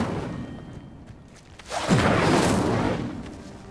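A fire spell cast in the Hogwarts Legacy video game: a quiet lull, then a sudden whooshing burst that swells into a loud roaring flare and slowly tapers off.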